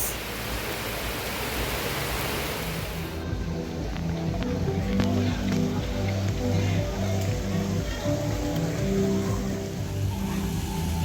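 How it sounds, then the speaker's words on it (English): Steady rain pours at a rainy-day spot in Ubud, Bali, making a constant broadband hiss with a heavier rush at the start. Faint voices can be heard under the rain. "Oh my God, it's raining."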